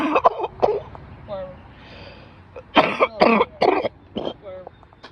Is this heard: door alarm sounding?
no